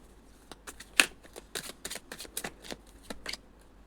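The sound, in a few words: tarot cards being shuffled and drawn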